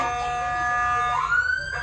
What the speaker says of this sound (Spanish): Sí. Es una patrulla.